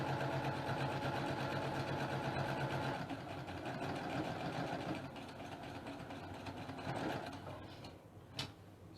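A sewing machine hums steadily at close range, stitching half square triangles along a drawn line for quilt piecing, then slows and stops near the end with a small click.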